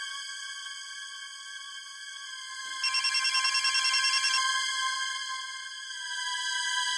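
A steady high electronic tone hums, then a warbling trill rings out for about a second and a half before fading back to the drone.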